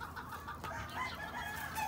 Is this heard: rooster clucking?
yes